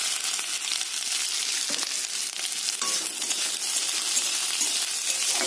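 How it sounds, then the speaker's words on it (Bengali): Chopped onions fry in hot oil in a pan with a constant crackling sizzle and scattered light clinks, heard close with no voices. "পেঁয়াজটাকে লাল লাল করে ভেজে নেব।"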